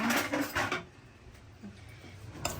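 A spoon is pulled out and handed over in a home kitchen, with a brief, close clatter of metal cutlery and dishes at the start before the sound settles into quieter room noise.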